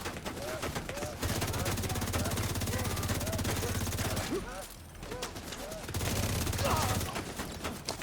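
Rapid automatic turret gunfire in a shooter video game rattles steadily in a dense burst, pauses briefly, then resumes at full intensity amid game noise.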